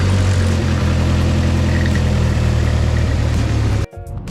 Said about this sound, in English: now we're gonna start the engine and see how the engine idles